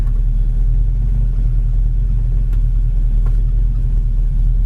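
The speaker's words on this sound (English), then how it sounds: "this whole time it's been running. It's running about 500 RPM." A 1967 Ford Mustang's V8 idles at roughly 500 RPM, a loud, steady, close rumble with an even low throb and no revving, heard alone.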